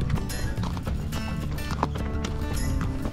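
Hooves of a horse or mule clip-clopping on the ground during a desert ride with hounds, a steady run of close irregular clops with faint movement noise around them.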